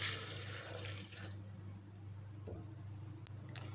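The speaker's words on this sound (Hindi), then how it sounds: "अब इसमें ऐड करेंगे 1/2 ग्लास पानी" Half a glass of water pours into a blender jug holding grapes, sugar and salt, making a faint, brief splashing rush that tapers into quiet background hiss.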